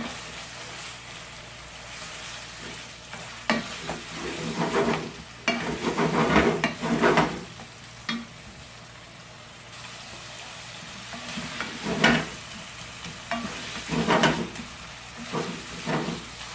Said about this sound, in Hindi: बहुत अच्छी तरह से हिलाते रहना है, नहीं तो ये जुड़ जाता है।